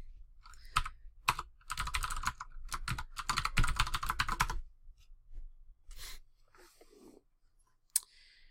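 Someone taps a password into a computer keyboard at a device login screen, bursts of quick close keystrokes followed by a few scattered presses and a final sharp key hit.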